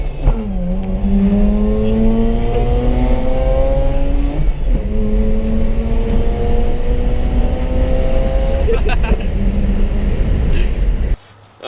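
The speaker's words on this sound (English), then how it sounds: "I gotta redline my car, spin the carbon out, gotta preserve my engine, rotaries" A Mazda RX8 rotary engine revved toward redline: loud, close, high-pitched buzzing climbs in pitch, drops briefly between pulls, then climbs again through a long, sustained wail before cutting off.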